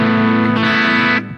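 Electric guitar playing a light crunch tone straight into a Fractal Audio amp modeler with no pedal, a sustained strummed chord ringing loud and steady before cutting off and decaying near the end.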